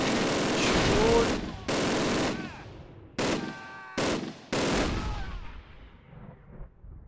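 Video game gunfire in several sustained automatic bursts separated by short gaps, loud and close, each burst cutting off abruptly with echoing tails, while a voice speaks over it.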